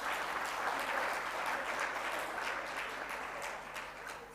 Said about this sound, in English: Another round of applause for them, please, ladies and gentlemen.